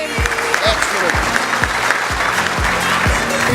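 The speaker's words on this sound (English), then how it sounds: "Round of applause, please, ladies and gentlemen" An audience at the Asian Apprenticeship Awards Night 2016 applauds in steady clapping, with a few sharp, separate claps standing out over a faint background and a room voice now and then.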